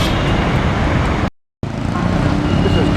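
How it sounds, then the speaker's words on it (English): Heavy, constant street traffic in Manila with jeepneys and buses, a dense roar of engines and road noise that cuts out briefly for a moment before resuming. "Manila is one of the worst cities in the world for traffic, as you can see"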